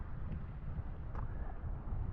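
Wind buffets a sandy beach beside a port in Villasimius, Sardinia, a steady low rumble of gusts across the microphone, fairly loud and unbroken, with no talking.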